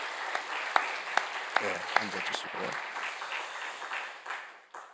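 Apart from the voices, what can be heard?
congregation applause of encouragement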